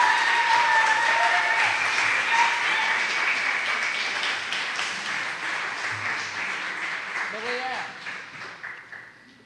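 Audience at a university journalism conference applauding the inaugural speaker, loud sustained clapping that slowly fades, with a voice heard over the end.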